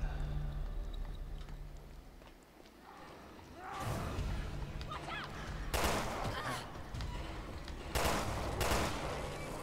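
Gunfire in the video game Resident Evil Revelations 2, heavy booming shots landing in several loud bursts over a background of game ambience.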